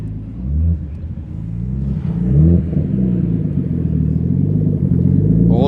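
A Nissan R31 Skyline GTS-X twin cam turbo passes nearby on a street in Christchurch, its engine a steady low rumble that swells slightly as it goes by.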